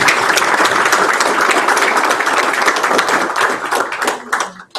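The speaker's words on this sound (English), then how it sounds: "Can you give all of these people a round of applause?" An audience at a constitution and public leadership breakfast discussion series applauds a team of young assistants. The clapping is dense and steady, then thins out into a few scattered claps that end it.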